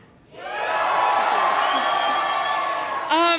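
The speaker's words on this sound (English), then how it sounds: "So you guys, if you promised me you would cheer, do it now." A theatre audience cheers and whoops on cue, a loud sustained roar of voices that swells quickly, holds for a few seconds and then cuts off as a single voice comes in.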